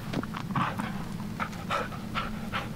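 In the horror video game Blair Witch, a dog pants in short breathy bursts over a low steady hum, the puffs coming in an irregular rhythm at close range.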